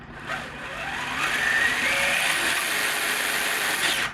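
An RC4WD Trail Finder 2 scale crawler's transmission whirs and grinds steadily close by as it shifts into high gear, with a rising gear whine and no speech.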